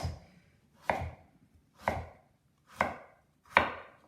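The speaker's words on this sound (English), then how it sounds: "So we're going to again just cut across into some nice chunks." A knife chops a sweet potato into chunks on a cutting board: five crisp, close thuds spaced about a second apart, with no talking.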